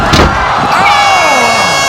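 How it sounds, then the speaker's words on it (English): A loud crowd at an obstacle course competition cheers and shouts in response to a contestant, a close, dense burst of voices with a rising whistle-like cry and some speech mixed in. "The crowd's responding"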